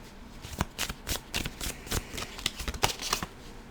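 Tarot cards shuffled by hand in a quick run of crisp riffling bursts and soft slaps, close and clear with no talking.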